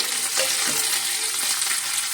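Steady, bright sizzling of curry leaves and chillies frying in hot oil as a tempering for dhokla, close and continuous, with a soft stir near the start.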